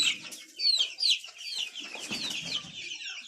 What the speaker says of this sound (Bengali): এটি একটি কোচিন মুরগি তো এটা হচ্ছে ব্ল্যাক কোচিন